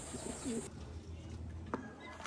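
Pigeons coo softly at close range, a few low throaty calls near the start followed by faint rustling and ambient noise, with no speech.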